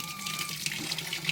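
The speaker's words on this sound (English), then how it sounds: "But I'm gonna get this filled up with water." Water runs from a kitchen tap into a pot in a brief, steady splashing gush, close and moderately loud, with no voices.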